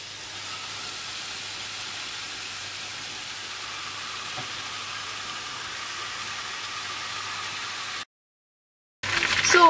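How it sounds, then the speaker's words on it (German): Stuffed chicken breasts fry in a pan over low heat, giving a steady, even sizzle and hiss that holds unbroken for about eight seconds before cutting out, with no one speaking. "Zum Anbraten der gefüllten Hähnchenbrüste nehme ich eine Pfanne"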